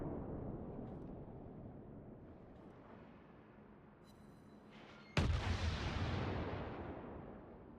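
Incoming shells in the naval video game World of Warships: a low rumbling battle bed builds, then a sudden loud, sharp boom of impact at about five seconds, followed by a sustained roaring wash of noise.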